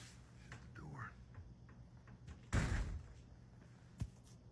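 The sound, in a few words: door being shut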